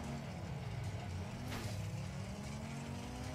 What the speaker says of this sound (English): I'm having a hard time drifting in this car.